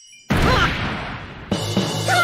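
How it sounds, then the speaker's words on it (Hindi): A megaphone drops to the ground with a loud, abrupt clattering crash, followed by a second smaller knock as it settles, with no voices. "मेगाफोन गिर गया।"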